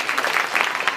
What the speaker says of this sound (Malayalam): വേണമെങ്കിൽ ഒന്ന് കൈയടിക്കുക.